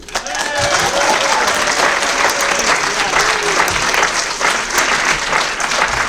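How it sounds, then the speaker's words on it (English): An audience at a debate on the eagle versus the turkey breaks into sustained, dense clapping that holds steady and loud, with faint voices mixed in. "A big round of applause for Janelle Bonus."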